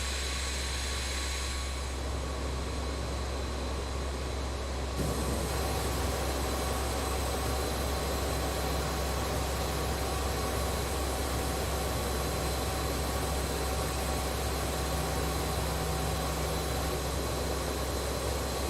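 Steady roar of BAe 146 jet engines taxiing in Microsoft Flight Simulator 2020, a continuous loud whine and rumble that grows fuller after a few seconds and holds unchanged, with no voices.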